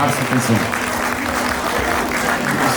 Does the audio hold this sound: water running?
no